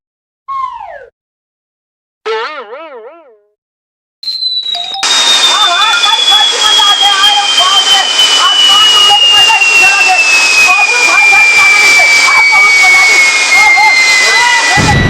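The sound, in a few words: firework rocket whooshing into the air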